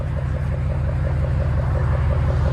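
V8 pickup truck exhaust idling nearby with a loud, steady, deep rumble that pulses evenly and stays constant throughout, no voices over it.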